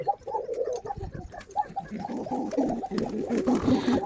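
Domestic pigeons coo softly and repeatedly nearby in a loft, low throaty burbling calls overlapping with faint rustling in the background.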